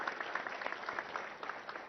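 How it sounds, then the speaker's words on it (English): Steady applause from an audience, dense continuous clapping from start to finish. "I think that deserves a big round of applause"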